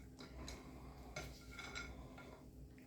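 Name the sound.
stirring chopped mini Oreos and white chocolate chips into cookie dough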